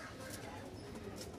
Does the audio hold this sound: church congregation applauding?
no